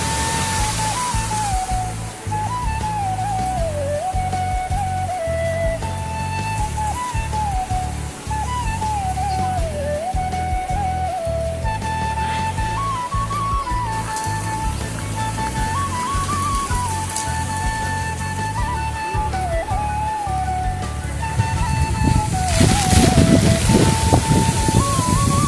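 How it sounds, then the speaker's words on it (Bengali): A storm with heavy, all-day rain pours continuously in a steady hiss, with a sustained tonal line running through it and the downpour swelling louder near the end. "ঝড়ের শব্দ দেখেন ভাই।"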